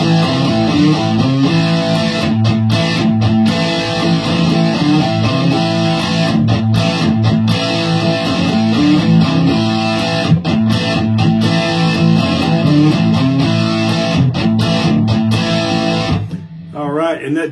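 Dense, continuous full-band guitar-like sound with a distorted, heavily processed tone over steady rhythmic attacks, loud and close, thinning out just before the end.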